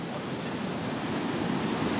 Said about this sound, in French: Quand les vagues arrivent devant toi, c'est impossible de passer.